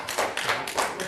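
An audience at a city council meeting claps in a short burst of brisk, fairly close clapping that lasts about a second and is not accompanied by speech.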